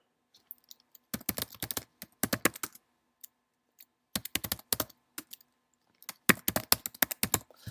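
Fingers type on a computer keyboard during a software install, producing rapid bursts of crisp clicking keystrokes separated by short pauses, close and clear against near silence.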